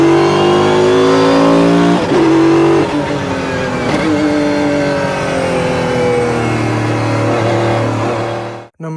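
A Mercedes-Benz CLK GTR V12 with straight-cut gears howls loudly at close range, pitch climbing through several gear changes with a whining gear tone, then cutting off abruptly at the end.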